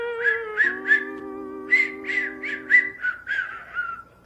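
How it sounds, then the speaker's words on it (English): A person whistles a bright, tuneful phrase of about ten short, distinct notes. A steady low hum sits beneath them, and nobody talks. "Can you all whistle?"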